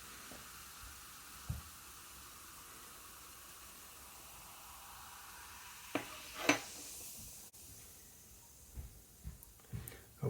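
A soft, steady fizzing hiss of baking soda and vinegar reacting, with a few brief louder pops and clatters partway through.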